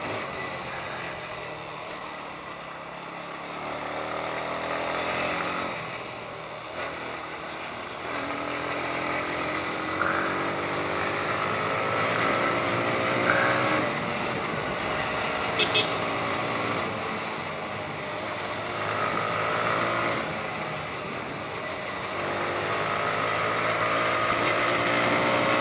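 A TVS Apache RTR 180 motorcycle being ridden on the road, its engine revving out in gear with rising and falling pitch and a steady rush of wind, heard up close under occasional talk.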